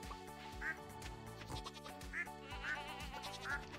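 Farm animals in the Stardew Valley video game bleat and quack a few times at spaced intervals. The calls sit faintly over steady game background music.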